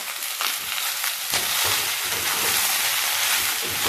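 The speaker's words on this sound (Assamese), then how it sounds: "কেঁচা জলকীয়া, কাটি লোৱা বিলাহীখিনি আৰু চজিনাখিনি একেলগে দি এতিয়া মই এইখিনি সুন্দৰকৈ ভাজিলোঁ।" Green chilli, chopped tomato and drumstick pieces fry together in a pan for South Indian sambar, giving a loud, steady, close sizzle with brief stirring scrapes.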